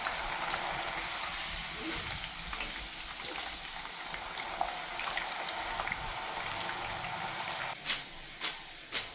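Field beans frying in oil until done, a steady close sizzle that thins slightly toward the end, with a few sharp stirring clacks near the finish.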